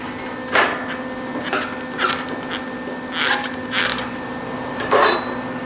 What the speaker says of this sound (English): So I'm just going really light welds.